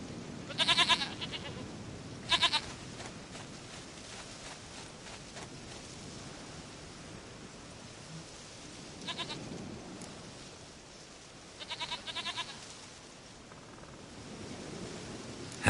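Goat bleats from The Witcher 3: Wild Hunt come in short separate bursts, two early and two later, set against a quiet steady ambient background with nobody speaking.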